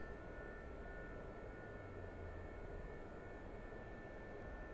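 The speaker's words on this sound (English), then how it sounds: "you can see that the helicopter pretty much stays in place right now" An SA-342 Gazelle helicopter holds a steady hover on autopilot in a flight simulator, its engine and rotor giving a faint, even drone with a thin high whine, unchanging and without speech.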